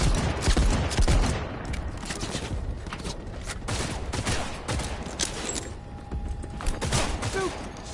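Rapid gunfire bursts from the video game Cyberpunk, dense and continuous with booming shots and thuds layered throughout, loud and close.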